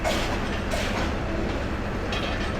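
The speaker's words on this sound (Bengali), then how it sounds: "বিমানবন্দর রেলওয়ে স্টেশনে প্রচুর মানুষ" A train rumbles through the busy Airport railway station in Dhaka, a dense continuous roar of wheels and carriages at close range with no talk.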